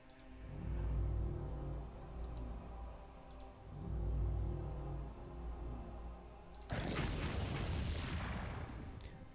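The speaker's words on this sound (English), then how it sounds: "those level 3 cannon are pretty effective here" Level 3 cannons fire in the space strategy game Sid Meier's Starships: faint clicks and muffled booms give way to a loud burst of blasts near the end.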